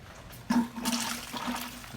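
Water starts flowing into a homemade sluice box with silicone mats, a sudden gush that settles into a steady, moderately quiet rushing flow.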